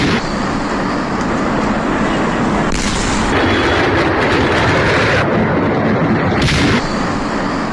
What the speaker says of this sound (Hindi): तो सुना आपने कैसे धमाका हुआ?